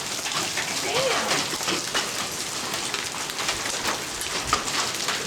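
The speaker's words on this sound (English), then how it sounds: "It's about to hail really bad." Hail falls hard and without a break during a 2006 storm in Hudson Bend, Texas, a thick, steady hiss and patter with sharper hits poking through, heard close with voices in the background.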